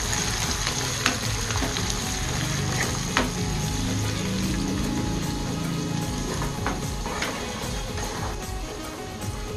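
Garlic and green chili crackle and sizzle in hot oil in a pan as a tempering for squid, a dense, continuous frying hiss with a few sharp pops and no talk.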